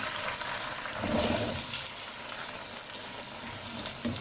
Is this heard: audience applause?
no